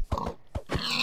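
Pig in the video game Minecraft, two or three short low grunts in quick succession, close and clear, with no talking.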